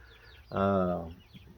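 A single chicken lets out a drawn-out, loud cluck close by in a backyard flock, with quieter clucks and soft rustling before and after.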